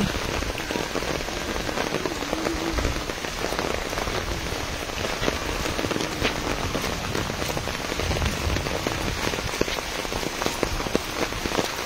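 Heavy rain pouring during a typhoon in a rural Philippine farm area, a dense, loud, continuous hiss of drops on surfaces with no pauses.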